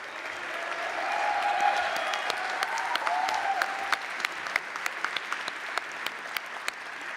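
Applause from a graduation ceremony audience for award winners swells and then thins out into scattered individual claps near the end, with a few faint cheers and voices early on.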